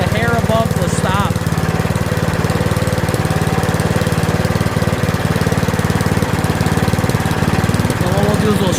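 A Yard Machines 179cc snowblower engine, a curbside find, idles loudly and close by with a steady, rapid chugging putter that holds an even pace throughout.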